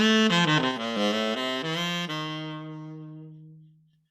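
Saxophone with a plain, unprocessed tone plays a short run of sustained melodic notes, rich in harmonics, ending on a long held low note that fades out; solo and close, no talking.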